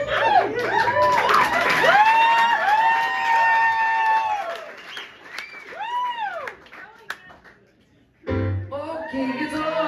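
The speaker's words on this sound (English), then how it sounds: "So I want to play a couple songs from the set." A live band plays a song with singing over a noisy crowd, ending briefly before clapping and cheers rise near the end.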